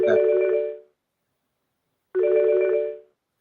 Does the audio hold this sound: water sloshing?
no